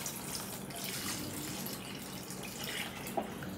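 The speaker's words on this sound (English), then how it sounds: "We're going to add some water." Water pours steadily into a pot of homemade chicken noodle soup, a continuous splashing stream of moderate loudness with a small plop near the end.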